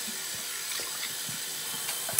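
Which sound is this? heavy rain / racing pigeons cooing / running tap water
running tap water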